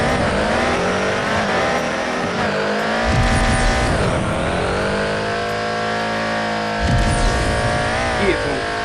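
A tuned 1,000-horsepower twin-turbo Civic racing in the Madout 2 video game, its engine revving hard and loud, rising and dropping in pitch through gear changes, with tire squeal close by.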